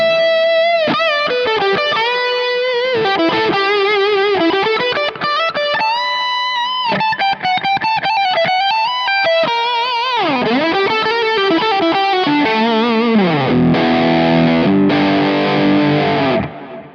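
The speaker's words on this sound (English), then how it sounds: "You can get a pretty kind of good thick lead tone." A thick, distorted electric guitar lead plays sustained, bending notes and fast runs, loud and continuous, ending in heavier chorded strums.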